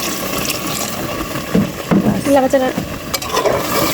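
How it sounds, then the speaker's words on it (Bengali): Water is poured into a pot of cooking beef, making a gurgling, splashing rush that grows stronger midway and continues through the end, with brief voice-like tones mixed in. "এই যে পরিমাণ মতো পানি দিয়ে দেবেন।"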